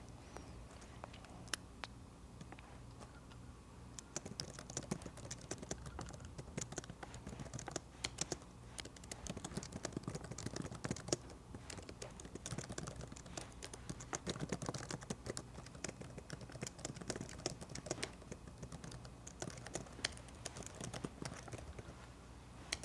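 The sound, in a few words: typing on a computer keyboard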